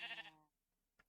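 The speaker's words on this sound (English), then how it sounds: "Look at this sheep." A sheep bleats once in a video game, a short near wavering bleat that fades into quiet, followed by a faint click.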